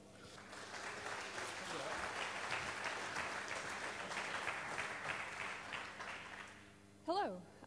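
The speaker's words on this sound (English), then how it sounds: "So please give me a hand of applause for Leslie." An audience claps for a speaker at a hacker conference talk, a dense, sustained round of applause that fades out and is followed by a brief voice near the end.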